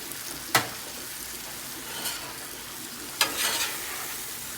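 Mushrooms sauté in olive oil with salt and pepper, a steady soft sizzle broken by two sharp scraping stirs, close by and without voices.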